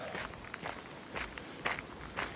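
Footsteps of a hiker walking the Great Glen Way, steady crunching paces at an even rhythm, close but fairly quiet, with no talk over them.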